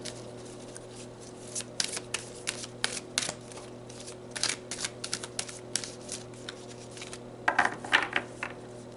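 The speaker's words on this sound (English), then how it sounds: "So let's pull some more cards" Tarot cards being shuffled by hand, a run of soft papery riffles and flicks in irregular bursts over a steady background hum, fairly quiet and close, with no talking.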